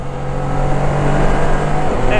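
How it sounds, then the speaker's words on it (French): A Can-Am Spyder RT Limited three-wheeler's engine rises in a loud, close revving drone as it downshifts to overtake, steady throughout with wind noise over it. "Et si tu as envie de doubler, tu rétrogrades, tu baisses un rapport"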